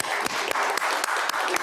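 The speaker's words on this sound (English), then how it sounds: "Yes, quick applause." An audience at a Martin Luther King Jr. community service award ceremony gives a quick burst of applause for the awardee: fast, even clapping from a modest crowd, fairly close and steady.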